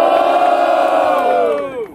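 A loud, close crowd at a rap battle lets out a sustained roaring cheer and shouting that fades off near the end.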